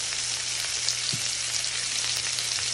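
Brussels sprouts with minced garlic and seasoning fry in a pan, giving a steady, close, even sizzle for the whole stretch with no distinct stirring strokes and no voices.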